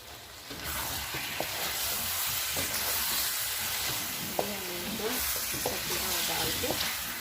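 Mutton browns in a pan with cumin and mango powder for bhuna gosht, a loud continuous sizzle broken by occasional clinks and scrapes as the meat is stirred.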